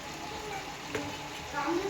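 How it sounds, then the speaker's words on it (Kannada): A pot of fish sambar made with fresh cut fish simmers steadily, giving a close, continuous bubbling sizzle with a few soft stirring knocks and no talk. "ಸಾಂಬಾರು ಕುದೀತಾ ಇದೆ"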